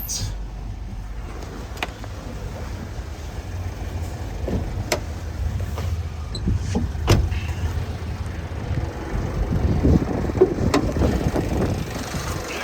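A Vauxhall Vivaro van engine running at a steady low idle, a soft continuous rumble with a few faint clicks and knocks over it and no speech.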